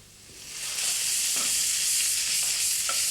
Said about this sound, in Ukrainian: этот бекон мы доводим до золотистого цвета, хрустящего. Мы к нему добавляем чесночок.